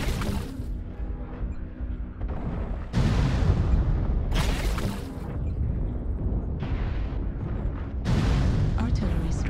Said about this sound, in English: Target spotted. Artillery strike activated.